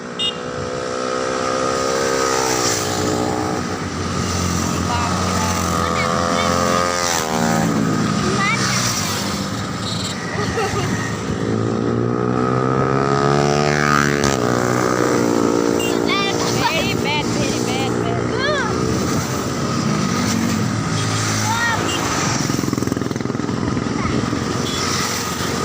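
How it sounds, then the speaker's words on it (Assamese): Many motorcycles ride along a crowded road during an Independence Day celebration, their engines droning and revving continuously nearby and passing by, with a person talking over the traffic noise throughout. "কিমানবোৰ বাইক গৈছে আপোনালোকে দেখিছেনে গোটেই ৰাস্তা একদম জুৰি গৈছে"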